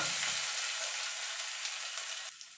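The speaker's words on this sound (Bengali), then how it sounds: "এবার আদাটা একটুখানি ভাজা ভাজা করে নেব" Ginger fries in hot oil with mustard seeds for a Bengali dal shukto, producing a loud, continuous close sizzle that crackles throughout and eases slightly at the end.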